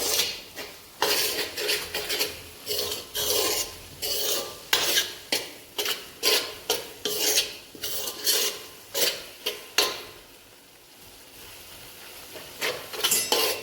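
Besan (gram flour) roasting in a pan is stirred with a spoon, making rhythmic, close scraping strokes against the metal that repeat in quick bursts before a short pause and a few more strokes.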